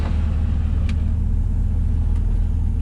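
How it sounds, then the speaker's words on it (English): The air conditioning fan in a 1950 Ford F1 truck blows cold air with a steady, close, low rumbling whoosh, unchanging throughout with a couple of faint clicks. "Get the AC, you can feel it. It's blowing cold. Makes a little fan noise."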